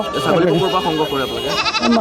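Goats bleat at a crowded market, with several quavering cries overlapping close by and people talking underneath.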